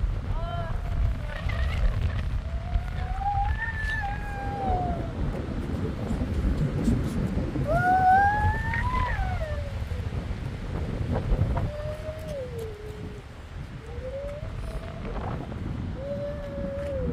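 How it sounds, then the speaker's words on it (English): Strong wind gusting steadily across the microphone at Pyramid Island by Patricia Lake in Jasper, a loud continuous rumbling roar, with voices and calls heard over it. "very windy, guys. Very windy"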